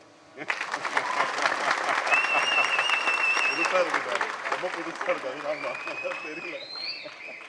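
An audience applauds at a film audio launch event, sustained dense clapping filling a large hall with whistles and shouts rising over it, continuing loudly throughout.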